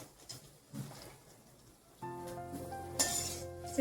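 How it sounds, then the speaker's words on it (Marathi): Sabudana vadas frying in hot oil, a steady sizzle with light clinks of a utensil against the pan, close up, with no talking. "दोघी बाजू पूर्ण खरपूस होईपर्यंत तेलात तळून घ्यायचे"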